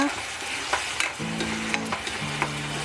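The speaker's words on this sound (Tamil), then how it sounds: "இந்த ஸ்டேஜில் தக்காளியை போட்டுக்கோங்க. தக்காளியும் அதே மாதிரி நல்லா க்ளீனாக சுருண்டு வர வரைக்கும் வதக்கிக்கோங்க." Tomatoes sautéed in oil in a pan for Kerala-style fish molee, a steady close sizzle with occasional scraping stirs of a spoon across the pan, no voices.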